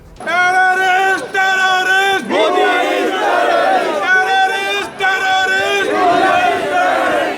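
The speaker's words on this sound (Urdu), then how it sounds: "مظاہرین نے بھارتی قابض افواج کے خلاف سخت نعرے بازی کی" Kashmiri protesters at a rally against Indian forces chant slogans in loud unison, a crowd of voices shouting repeated phrases in strong rhythmic bursts with brief pauses between them.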